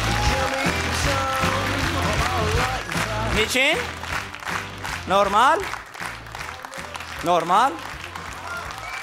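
A studio audience at a television show claps in a dense, continuous wash, with voices talking and calling out over it throughout.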